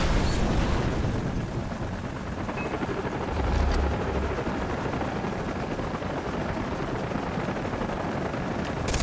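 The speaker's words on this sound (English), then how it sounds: "Goddamn chopper!" Helicopter in the Far Cry 3 video game, a dense continuous rotor drone mixed with rattling gunfire and a low boom partway through, no voices.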